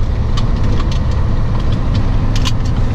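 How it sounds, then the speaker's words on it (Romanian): A truck engine idles with a steady, low rumbling drone, loud and close, with faint clicks and rattles on top and no talking. "Un camion de-a nostru."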